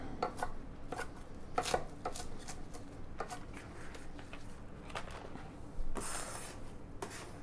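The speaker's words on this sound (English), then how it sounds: "If you have a little bit of stem in there, just chop it up." A knife chopping parsley with some stems on a cutting board, quick irregular close taps in bursts with brief pauses, no talking.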